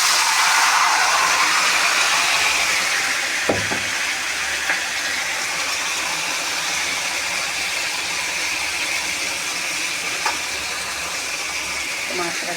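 Spiced meat fries in a pot with bay leaf, giving a loud, steady, close hiss that softens slightly after the first few seconds. A couple of faint clinks sound over it.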